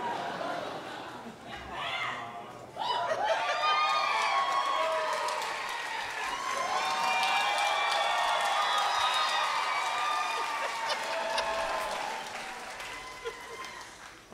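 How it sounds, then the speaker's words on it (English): A concert audience applauds a band, dense sustained clapping with cheers and whoops from a large crowd, swelling after a few seconds and holding steady before easing off, with a voice speaking over it near the start. "too much clapping for the band"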